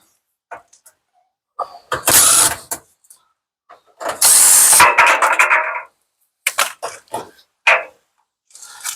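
Screws being backed out of the front panel of a Samsung dryer, a run of sharp ratcheting clicks and scraping bursts in close, irregular spurts with short pauses between, no talking.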